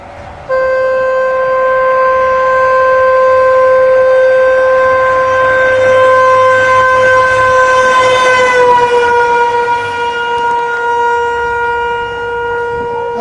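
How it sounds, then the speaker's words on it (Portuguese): A car horn sounds continuously and loudly for several seconds as the car passes at about 60 km/h, its pitch sliding downward, with faint road noise underneath. "E vai começar a buzinar."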